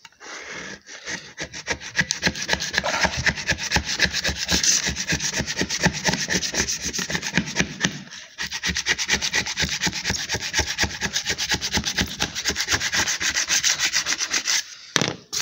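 A scraper rasps steadily across a surface, stripping leftover Sika sealant residue on a camper van, with dense rapid strokes close and loud, a brief pause midway, then more continuous scraping.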